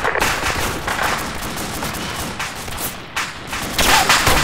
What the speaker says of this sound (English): We've got a lot of tracer fire coming in from the far southwest of the town.